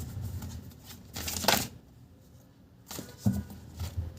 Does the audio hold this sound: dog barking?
no